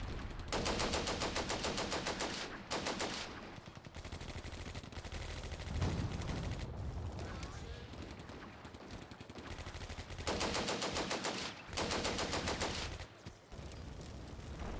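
Gunfire from the Combat Mission: Barbarossa to Berlin war game as Hungarian infantry cross open ground: dense, loud machine-gun bursts rattle in long sustained runs, pausing briefly in the middle before another heavy burst.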